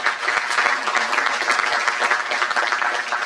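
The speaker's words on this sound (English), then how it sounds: "A big round of applause, please." Steady, dense applause from an audience at a law school moot court event rolls on evenly throughout, many hands clapping together without a break.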